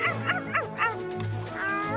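A cartoon husky gives a quick run of high, yipping barks, about four in a row, then trails into a softer whine.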